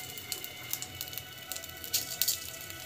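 Mustard seeds splutter in hot cooking oil, giving off quiet scattered crackles and sharp little pops at an irregular rhythm.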